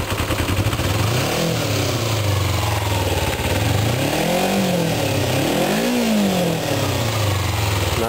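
A Kawasaki Ninja 250 motorcycle with stock exhaust idles steadily, then revs up and drops back several times, each rise short and throaty, loud and close.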